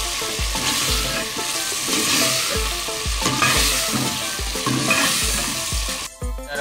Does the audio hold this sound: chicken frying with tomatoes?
yes